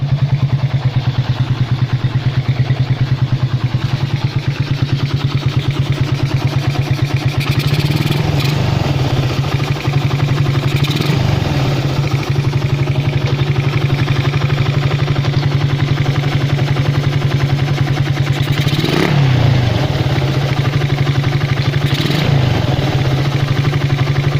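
A pit bike engine fitted with a 30mm PWK carburetor runs steadily close by with a low rumbling drone, and a few brief revs rise above the idle.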